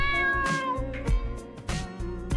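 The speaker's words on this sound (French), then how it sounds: "Oh le chat!" A cat meows several times in the video game Dave the Diver, drawn-out and tonal, over a repeating low musical backdrop.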